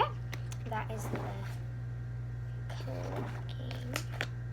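Slime is squeezed by hand, giving soft wet clicks and squishes in two short bursts, close and fairly quiet over a steady low hum.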